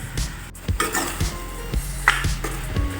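Vegetables for a vegetable kurma sautéing in a pan, with soft sizzling and a few clinks and scrapes of a spoon against the cookware, close and steady with no voices.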